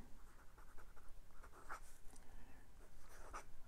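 A Lamy Dialog CC fountain pen with a 14 karat gold medium nib scratches across Clairefontaine 90 gsm paper in soft, quiet strokes, with a few sharper scrapes, close up and alone.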